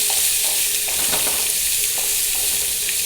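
Chopped cabbage and onion for cabbage thoran tossed into a hot pan, a loud continuous sizzle with repeated scraping stir strokes spread across it.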